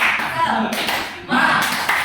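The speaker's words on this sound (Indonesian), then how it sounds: "ada tepuk semangat ini. Tepuk semangat." Students in a classroom perform the tepuk semangat clapping routine, two rhythmic bursts of quick patterned claps with voices chanting along close by.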